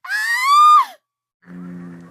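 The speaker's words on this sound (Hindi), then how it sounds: "एक औरत की चीख सुनाई दी" A woman's high, piercing scream rises and then breaks off, followed after a short silence by a lower, strained groaning cry, loud and close, as a horror-story sound effect.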